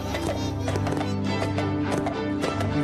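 In SpongeBob SquarePants: Battle for Bikini Bottom Rehydrated, Patrick runs around like a horse to a steady, rapid clip-clop of hoofbeats layered over continuous game music.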